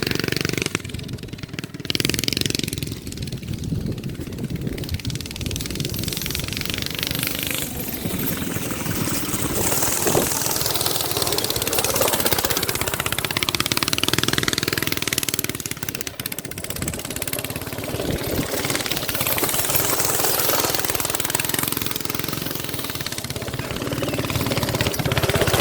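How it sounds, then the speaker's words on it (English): A small go-kart engine revs continuously as it rips across dirt, a loud, rough motor drone rising and falling with throttle for the whole ride, close to the listener with wind buffeting. "you saw earlier Jernigan doing a little rip on the go-kart"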